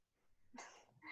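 A single sneeze bursts out sharply after a faint breathy lead-in during a Commedia dell'arte Rapunzel performance, followed by a brief second burst at the end.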